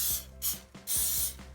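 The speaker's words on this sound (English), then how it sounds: "I am going to spray" Cooking spray hisses into a muffin tin in three short bursts, close and fairly loud, with faint clicks of the can between sprays.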